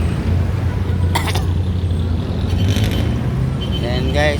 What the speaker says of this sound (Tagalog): nagka-traffic na guys ang papuntang Maynila guys, Maluan